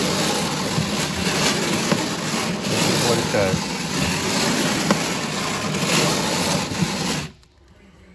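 A radial aircraft engine on museum display runs with a steady, even mechanical drone, loud and continuous before cutting off abruptly near the end, while someone speaks briefly over it.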